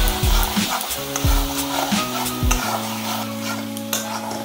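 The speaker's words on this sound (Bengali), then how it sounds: "মশলাটা ভালোভাবে মিশিয়ে অনবরত নাড়াতে হবে, কারণ কাজু বাদাম দেওয়া আছে তো লেগে যেতে পারে।" A paste of black mustard, poppy seed and cashew frying in a pan while it is stirred without a break, a steady close sizzle with a few knocks and scrapes from the spoon at the start and no speech.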